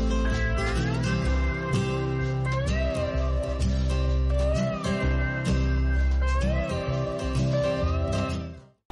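A cat meows repeatedly in a home, its cries rising and falling over a dense, continuous background of sustained music-like tones, fairly loud throughout until a sudden fade at the end.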